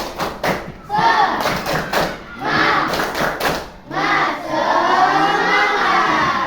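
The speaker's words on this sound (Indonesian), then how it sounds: "Tepuk semangat." A classroom of sixth-grade pupils claps and chants together in a rhythmic spirit-clap routine, with bursts of hand claps and thuds between loud group voices.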